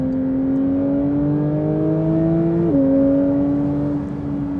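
Manthey Racing Porsche 911 GT3 engine pulling steadily in third gear, a smooth rising drone with a brief dip at a shift point, heard from inside the car without talk.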